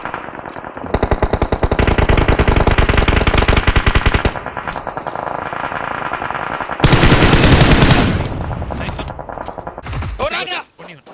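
Rapid automatic gunfire rattles in bursts in a shooter video game, loud and echoing, with a pause mid-way, then another intense burst and scattered shots, while players talk.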